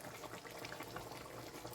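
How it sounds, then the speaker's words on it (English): Beans and chicken simmering in a pot of water on a stove, a quiet, continuous bubbling and crackling of boiling liquid heard up close with no voices. "So this is going to boil"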